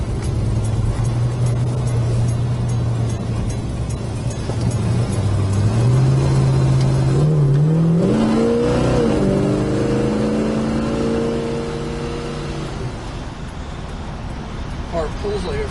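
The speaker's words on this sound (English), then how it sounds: "Car pulls like a freight train, runs great, shifts nice and clean." A 1968 Plymouth Road Runner, a barn find, revs and accelerates hard, its engine note climbing through gear changes and holding loud and close throughout, with people talking faintly underneath.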